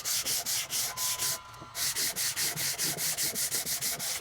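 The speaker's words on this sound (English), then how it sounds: "So I just give this a light sand, make it smooth" Hand sanding of a router-carved wooden sign with 220 grit sandpaper, steady back-and-forth rasping strokes in a regular rhythm, close and clear, with one brief pause partway through.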